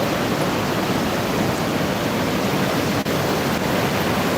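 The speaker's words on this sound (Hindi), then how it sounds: "और नदी पूरे उफान में है" A river in full flood at night, water rushing past in a loud, steady broadband roar that holds unbroken from start to finish, close and with no voices.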